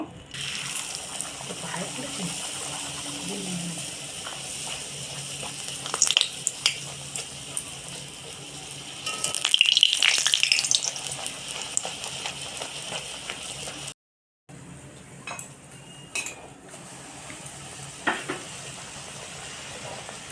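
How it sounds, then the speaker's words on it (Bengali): Luchi deep-frying in hot oil, a soft steady bubbling sizzle with a few louder bursts, a moment of silence partway through, then the gentle frying carries on. "লুচিগুলো আমি তো ভেজে নেব"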